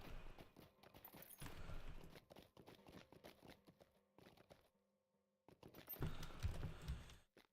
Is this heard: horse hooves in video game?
yes